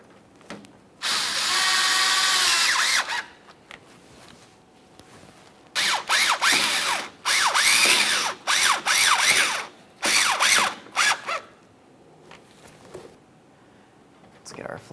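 Power drill driving headlight mounting screws on a GMC Acadia, several short whirring bursts of varying length in close succession, one long opening run, then quieter handling sounds.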